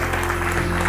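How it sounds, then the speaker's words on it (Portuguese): Audience applause welcoming two guests, one a nun, on a Portuguese afternoon talk show, a dense steady wash of clapping lasting the whole moment with a low hum beneath. "Um grande aplauso para os dois."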